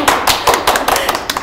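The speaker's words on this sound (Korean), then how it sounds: "박수 한번" A small audience applauds two guests, a special-school parent association leader and another parent, being introduced on a Seoul civic talk program, giving steady, fairly loud clapping with distinct hand slaps throughout and no voices.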